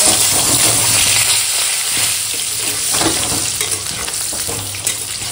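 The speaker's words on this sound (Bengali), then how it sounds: "মাংসের জন্য আলুটা বেশ একদম সোনালি করে ভেজে নেবো" Small whole potatoes sizzling loudly in hot oil, frying golden for a mutton curry, a dense continuous crackle with occasional stirring scrapes, no voices.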